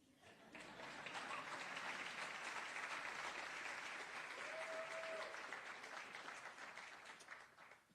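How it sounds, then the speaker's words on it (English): Sustained audience applause at a Council event, a steady dense wash of clapping that swells quickly and holds loud for most of the stretch before easing slightly, with a brief faint tone partway through. "You can clap for that."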